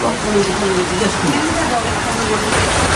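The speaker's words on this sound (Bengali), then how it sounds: "বাইরে প্রচন্ড বৃষ্টি হচ্ছে" Heavy rain falls outside as a dense, steady downpour that roars evenly throughout, with faint voices in the background.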